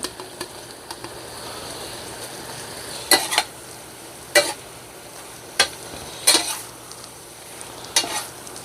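Spicy Korean shellfish stir-fried in a pan, a steady close sizzle with several sharp scraping clatters of a utensil against the pan spaced a second or so apart.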